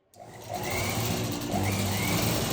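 A sewing machine runs steadily with a fast mechanical whir and rapid stitching rhythm, close and fairly loud throughout.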